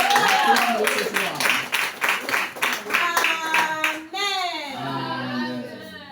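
A congregation at a prayer camp claps in a fast, steady rhythm over loud singing voices, and the clapping gives way to sustained acclaiming and cheering.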